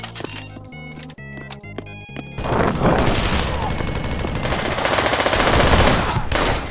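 Sustained automatic gunfire from a favorite weapon in the VR shooter Pavlov VR on a TNT map, loud continuous rattling bursts after a few seconds of sparse musical game sounds, with voices talking over the shooting.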